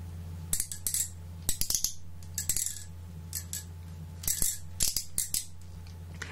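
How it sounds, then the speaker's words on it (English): An old Nightmare Before Christmas action figure's head is spun, giving bursts of small plastic clicks and rattles in short clusters, close up over a steady low electrical hum. "every time you spin his head, it makes this weird clicking noise"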